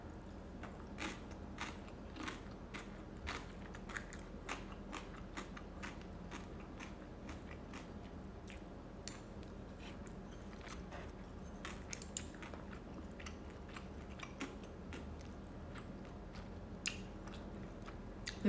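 Instant Korean black bean noodles eaten at close range, with soft repeated chewing and slurpy, squishy bites, quiet and continuous with no talking.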